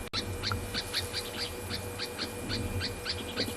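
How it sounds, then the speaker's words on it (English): Owls call from the bush on an afternoon safari in South Africa, a fairly faint series of evenly spaced, repeated notes at a steady rhythm over quiet outdoor background. "And you can also hear the owls."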